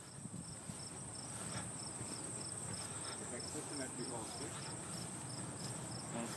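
Insects buzz steadily around an opened beehive outdoors, a continuous droning hum with a faint high pulsing chirp above it, under low background rustle.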